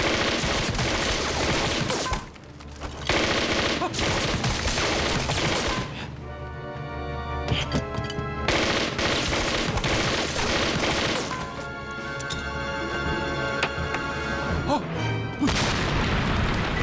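Dense, loud bursts of gunfire and heavy booms fire in rapid volleys in a war drama, with short lulls between them and a musical tone underneath.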